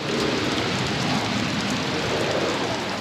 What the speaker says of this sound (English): it is raining so hard and there is crazy lightning going on.